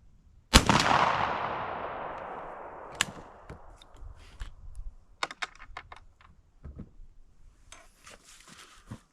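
Stevens 301 .410 shotgun firing a Viper TSS #9.5 tungsten load outdoors in the cold, one sharp loud blast with a long fading echo, then scattered light handling clicks and rustles.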